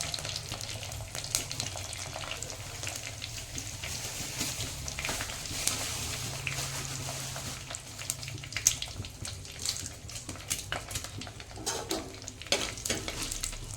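Curry leaves and a few dried red chillies sizzle in hot oil for capsicum bath, a low constant frying hiss with scattered stirring scrapes and clinks, growing busier toward the end.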